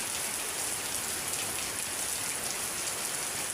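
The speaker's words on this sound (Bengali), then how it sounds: "বৃষ্টি হইতেছে অনেক" Heavy rain pours steadily in Tongi during a June downpour, a dense, even hiss that fills the whole clip at constant loudness with no talking.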